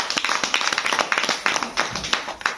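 An audience claps steadily and enthusiastically, dense overlapping handclaps filling the room without pause.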